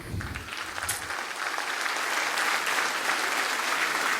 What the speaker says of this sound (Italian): Io vorrei ovviamente un applauso per Salvatore Bua.